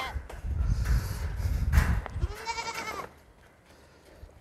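Young goat kids kept on a goat farm in Saudi Arabia bleat in a few short calls over a rumbling, shuffling background of movement nearby.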